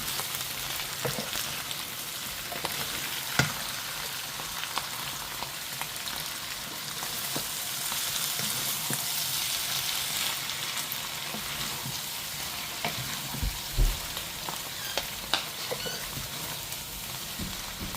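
Steady sizzling and crackling of egg frying in a hot pan, with occasional small pops and clinks, constant and moderately close.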